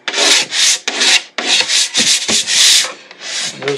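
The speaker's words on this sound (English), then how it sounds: "Just take a razor blade or a scraper, and that will take care of that for you." A razor blade or scraper rasps over cured epoxy drips on a guitar body in a series of short, firm scraping strokes, loud and close with brief pauses between.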